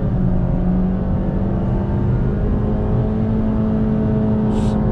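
A 2020 Honda City with a petrol CVT engine accelerates in sport mode, giving a loud, steady engine drone and road hum that holds constant throughout, with no talking.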